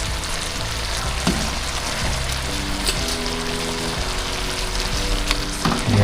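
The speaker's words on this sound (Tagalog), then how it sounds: "Yun, kuluan na po. Ilagay na natin yung ating isda." Fish with green chili cooks in bubbling coconut milk, a dense, steady sizzle and bubbling with faint stirring clicks throughout, close and loud, with no talk.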